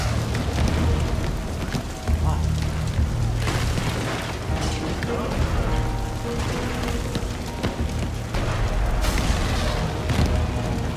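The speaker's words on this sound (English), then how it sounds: "Watch for cannon fire." Cannon fire and battle din in the video game Shadow Tactics: Blades of the Shogun, with dull booms breaking through a loud, continuous, rumbling wash of noise for the whole stretch.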